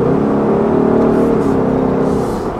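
A 2018 Ford Mustang GT engine drones steadily under acceleration in traffic, a loud sustained hum that rises only slightly in pitch and fades a little toward the end.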